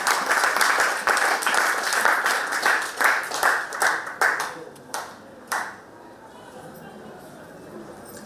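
A church congregation applauding and cheering for the Lord, a burst of dense clapping and cheers that thins into a few scattered claps and then quiet, with voices rising among the crowd.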